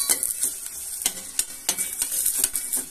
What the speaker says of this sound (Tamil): Let it fry. இந்த ஆனியன்ஸ் ஃப்ரை ஆனதும் கரம் மசாலா போட்டுக்கோங்க